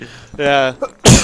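A person sneezes once, loud and close, near the end at a poker tournament table, just after a short spoken word from someone nearby.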